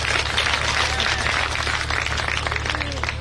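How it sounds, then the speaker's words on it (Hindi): An audience at a Hindi poetry gathering applauds, a dense, continuous wash of many hands clapping at moderate loudness over a steady low hum. "एक बार जोरदार ताली बजाइए तो कुछ काम हो।"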